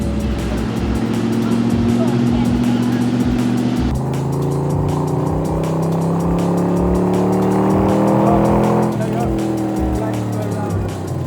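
A loud engine roars steadily as a fast car drives on a test track, its pitch climbing and shifting through gear changes, with a rapid mechanical ticking underneath.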